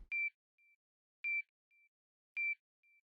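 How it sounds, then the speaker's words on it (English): Three evenly spaced electronic pings, each a sharp bright tone trailed by a fainter echo, ringing out alone against silence. "every time it passes the dot, you hear that sonar beep."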